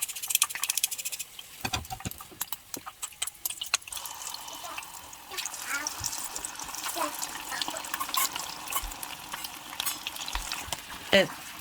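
Chicken gizzards deep-fry in oil in a pan, sizzling and crackling steadily, with scattered pops and bubbling throughout, fairly close by.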